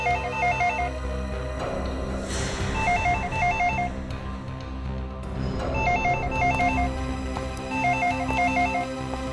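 An indoor telephone bell rings in repeated double trill bursts with short gaps between them, clear and fairly loud over a steady background of dramatic music.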